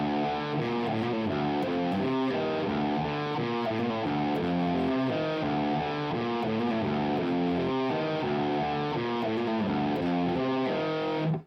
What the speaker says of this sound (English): And then both guitars at the same time are playing this.